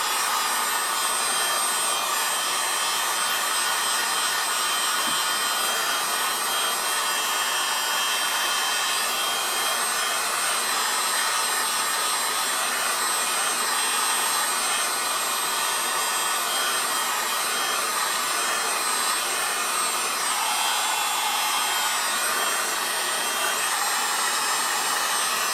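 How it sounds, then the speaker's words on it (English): A regular heat gun blows steadily at close range over a handmade clay witch figure, a loud continuous whooshing hiss with no break. "I'm going to hit this with the heat gun. Regular heat gun."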